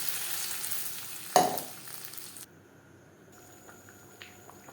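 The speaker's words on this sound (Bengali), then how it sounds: "শুকনো লঙ্কা, কালো সরষে, আর দিয়ে দেব চাটনির ব্যাটার।" Dried chillies, black mustard seeds and chutney batter for a carrot tomato momo chutney hit a hot pan, one sharp loud burst of sizzling that quickly fades to a faint, settling crackle.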